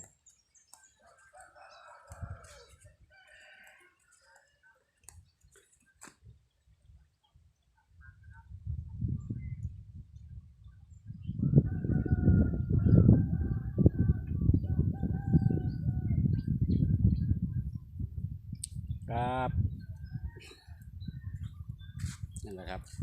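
Chickens cluck and scratch around in a steady barnyard bustle, with a rooster crowing briefly partway through.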